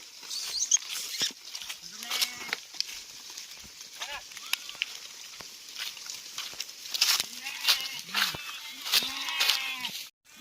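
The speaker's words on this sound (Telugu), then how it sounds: "నీళ్ళకైతే ఉరుకుతానే గొర్రె" A flock of sheep runs toward water in hot, dry, grassless conditions, bleating repeatedly in short wavering calls over a soft patter of hooves, with the bleats growing more frequent and overlapping near the end.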